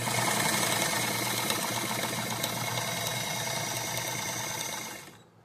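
A sewing machine runs steadily as it stitches down the folded end of a dress strap, a continuous close-up mechanical whir with a rapid needle rhythm that holds evenly for about five seconds before stopping abruptly.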